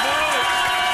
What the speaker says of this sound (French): le public va vous applaudir